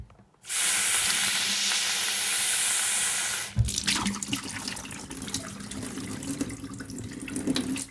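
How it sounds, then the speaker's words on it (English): Tap water gushes loudly and steadily into a sink to rinse fenugreek sprouts, then cuts off, followed by wet rustling and dripping as the sprouts are handled close by. "I'm going to rinse them."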